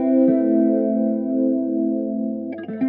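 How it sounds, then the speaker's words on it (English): A Hotone Binary MOD modulation pedal in its 3D chorus setting gives sustained, shimmering guitar tones, a held chord swirling steadily and close up with no talk, followed by a few fresh notes near the end. "The next one is a 3D chorus, producing multi-dimensional chorus with independent depth control over left,"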